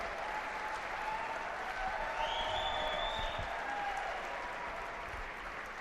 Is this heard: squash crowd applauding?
yes